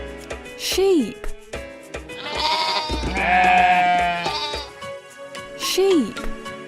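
Sheep bleats close and loud, with wavering calls at the start and end and a longer, sustained bleat through the middle.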